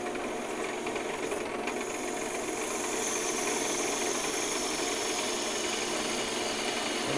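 A wood lathe spinning while a tool turns down a piece of wood, giving a steady loud whirring hiss of cutting and flying shavings that holds constant throughout.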